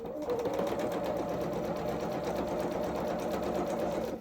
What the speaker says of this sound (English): So while we've got our machine here, why don't we just zigzag that now?